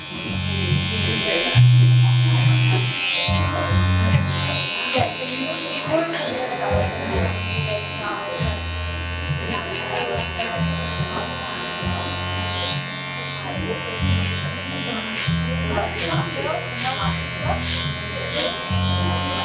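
Electric hair clippers buzz steadily through a clipper-over-comb haircut, sharpening the hairline and edges; the motor hum runs continuously and fairly close, with someone talking over it much of the time.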